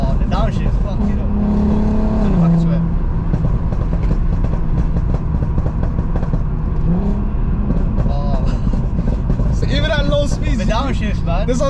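Engine of a Volkswagen Golf R, a Stage 2 MK7 or an MK5 R32, blipping and revving through a downshift inside the car, with rising and falling engine pitch under steady road roar and excited talk from occupants.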